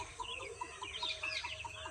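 Desi chickens of Sonali and Kadaknath breeds on a poultry farm cluck in quick repeated calls, with a crow rising among them, close and fairly clear over a low background hum.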